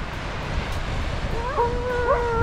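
A dog at a Melbourne beach gives rising, wavering howls and yips in the second half, moderately near, over a low background of wind and surf.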